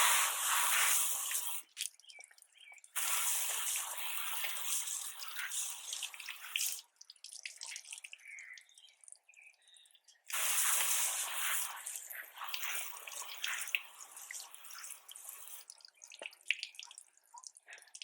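Water thrown in bursts onto a car's windshield glass to test a Chemical Guys Hydro View coating, several splashing, spraying rushes separated by quieter dripping pauses, close to the microphone.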